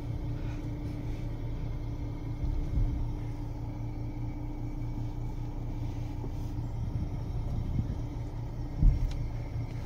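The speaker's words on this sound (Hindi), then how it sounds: "और गाड़ी और रिवर्स करते हैं।" A second-hand car in reverse gear gives a steady low engine rumble with a constant idle hum, close and even throughout, with a brief knock near the end.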